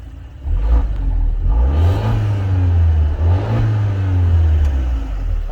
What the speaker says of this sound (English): the car has a pretty nice exhaust note too